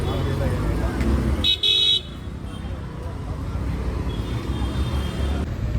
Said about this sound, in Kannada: ಪವರ್ ಟ್ರಾಫಿಕ್ ಅಂತೂ ಅಷ್ಟೇ ಇದೆ.